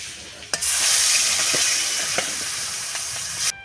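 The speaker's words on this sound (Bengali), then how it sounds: "বাকিগুলো আবার ভেজে নেব।" Pangas fish sizzles loudly in hot oil in a frying pan, a continuous close hiss broken by a few sharp clatters from a utensil, with no talk.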